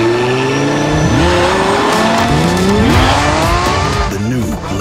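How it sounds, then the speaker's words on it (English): A Lamborghini Countach LPI 800-4 supercar roars loudly and continuously, its engine pitch sweeping up and down through gear changes and revs, with tire squeal mixed in and background music layered over the driving. "The new Lamborghini Countach."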